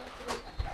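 A pigeon with a condition called telo gives one short, soft coo close by, lasting under a second with no talk.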